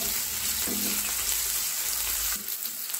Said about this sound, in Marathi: हे सगळं आपल्याला तेलात छान असं परतवून घ्यायचं।